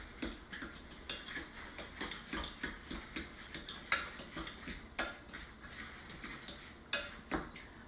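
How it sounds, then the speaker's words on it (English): A spoon taps and scrapes against a bowl in a quick, even rhythm while egg is stirred into a salmon patty mix. The clicks are faint and close, with a few sharper knocks. "stir that"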